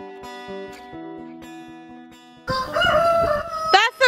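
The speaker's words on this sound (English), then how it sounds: "That's a rooster." A loud rooster crows nearby, a long strained call rising and falling, after a quieter stretch of tonal background sound.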